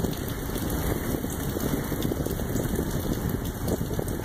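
Steady rain falls outdoors in a yard, a dense even hiss and patter close by with no voices.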